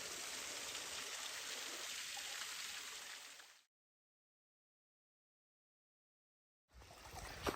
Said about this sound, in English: I've been walking alongside the stream, but I finally got a good view of it.